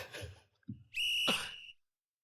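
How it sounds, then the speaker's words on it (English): Referee's halftime whistle at a soccer match, one shrill blast of under a second after brief faint noises, clear and close. "Blow that halftime whistle."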